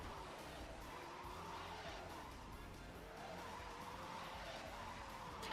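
A car in the video game Nightfire skids with the handbrake pulled, a steady sliding tire hiss over engine drone that runs continuously and loud, with no talk.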